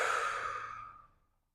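A deep exhale during a yoga hip mobility flow, one long close breath out that fades to silence, with no words.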